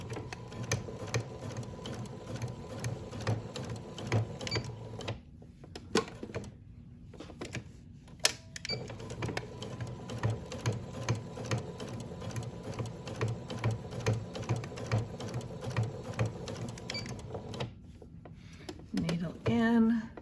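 A sewing machine stitches a large project in steady rhythmic bursts, stopping briefly while the needle is set with the hand wheel and the work is pivoted, then running again at a close, moderate level.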